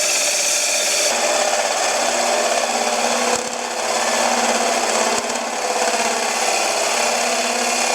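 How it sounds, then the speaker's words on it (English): Chamfering the corner of a wooden tenon on a lathe gives a steady, loud rasping cut that runs nearly unbroken, with two brief dips where the tool eases off the wood. "We'll put a little chamfer on that corner so it starts nice."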